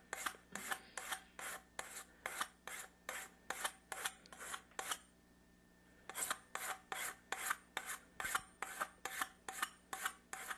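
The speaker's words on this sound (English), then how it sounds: "We're just going to keep filing it down until we get it down to the brass part." A regular metal hand file rasping chrome plating off a brass pipe, steady rhythmic back-and-forth strokes, loud and close, with one short pause before the strokes resume.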